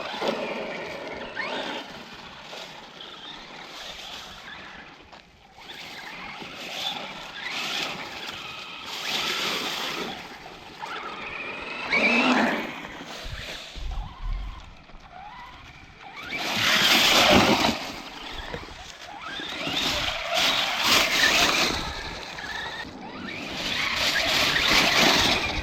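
A Traxxas Rustler 4x4 VXL RC buggy drives around, its electric motor whining and tires scrabbling over the ground in surges that grow loud as it passes close and fade as it pulls away.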